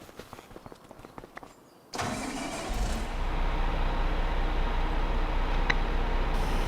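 Tractor engine in Farming Simulator 25 cranking over and catching after a few footsteps and clicks, then settling into a loud, steady rumbling idle that builds slightly and holds close.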